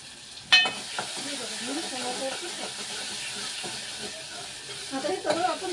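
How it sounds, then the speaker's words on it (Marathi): Spiced masala with red tomato stirred and roasting in a pan, soft sizzle and hiss with scraping stirs throughout, one sharp clatter near the start, a voice talking faintly underneath. "आता हे सगळं मस्त भाजून लालसरच करून घ्यायचं"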